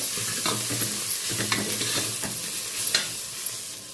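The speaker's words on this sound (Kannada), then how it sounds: "ಎಲ್ಲ ಸೇರಿಸ್ಮೇಲೆ ಲೈಟಾಗಿ ಇನ್ನೊಂದು ಸತಿ ಫ್ರೈ ಮಾಡ್ಕೊಬಿಡ್ಬೇಕು." Chana dal, black pepper, cloves, cinnamon and fennel seeds frying in a pan for a village-style country chicken curry, a dense close sizzle broken by repeated scraping stirs, with no voices.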